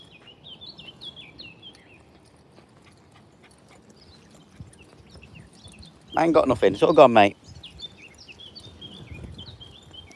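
Birds chirp in short high calls through a calm morning walk, fairly soft and scattered across the scene, with a voice cutting in loudly for about a second partway through.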